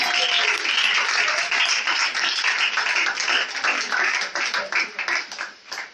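Church congregation applauding, a dense continuous wash of clapping hands that stays steady and full before thinning out toward the end, with faint voices mixed in.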